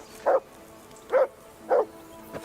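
A dog barks in the video game Kingdom Come: Deliverance II: four short, sharp barks, evenly spaced and close by, with faint background ambience between them.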